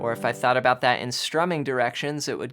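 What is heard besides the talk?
No everyday noises stand out.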